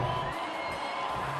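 A large baseball stadium crowd of more than 30,000 roars and cheers on a Friday night after a deep fly ball is caught at the warning track, a dense, sustained wash of distant voices.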